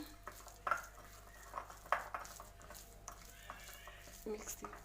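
Chicken pizza toppings seasoned with a pinch of salt are mixed together. Soft scattered clinks and scrapes come through at a low level, with a few sharper knocks along the way.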